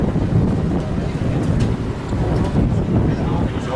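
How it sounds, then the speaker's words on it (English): Wind gusts across a tour boat on the water at Knysna harbour, a loud rough rumble buffeting the microphone continuously with a watery wash beneath. "There is a bit of a gust of wind."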